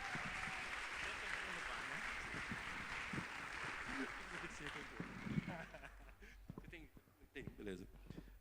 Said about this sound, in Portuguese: Uma salva de palmas para o Luiz Fernando, por favor.